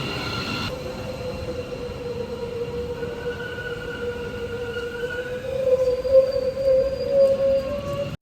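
A train runs along the tracks toward Munich, Germany, with sustained high-pitched wheel squeals over a low rumble that grows louder and rougher near the end.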